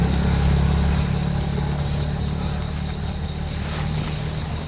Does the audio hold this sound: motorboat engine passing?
yes